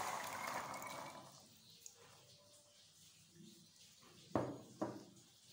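Water is poured over soaked chickpeas in a pressure cooker with a short, soft splashing rush at the start. Quiet kitchen sounds follow, then two sharp clunks near the end.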